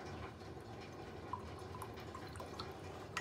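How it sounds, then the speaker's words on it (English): A paintbrush is rinsed and shaken in a water jar during a painting session, giving soft, continuous close-up sloshing and dripping with a few small splashes and no talk. "I clean my brush and I just go onto the water here, my water jar, tiptoe. So I clean, shake it about."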